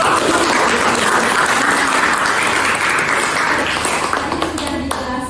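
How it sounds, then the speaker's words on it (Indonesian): An audience in a classroom teaching session bursts into loud, sustained applause, dense clapping that fades slightly toward the end. "bagus ya. Aplaus untuk"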